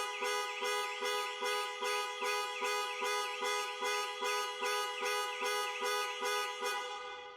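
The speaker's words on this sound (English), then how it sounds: "the horn will sound and the hazard lights will flash" A Jaguar E-PACE panic alarm horn honks in a steady rapid pulse, about two blasts per second, loud and close, continuing without pause before fading slightly at the end.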